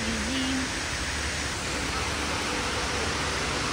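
An indoor waterfall in Dubai Mall, falling through all four floors, gives off a steady, full-bodied rush of water that fills the space evenly, with a brief faint tone near the start.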